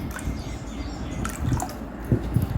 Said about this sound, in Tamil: இது ஒரு நூற்றம்பது கிராம் ஊற்றிக்கிறேன்